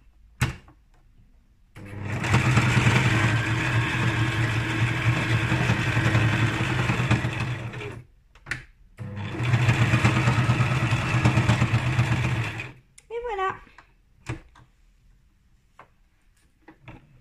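A sewing machine runs in two loud, steady bursts of rapid stitching, backward then forward to lock the seam, separated by a short pause, followed by a few light clicks and handling noises up close.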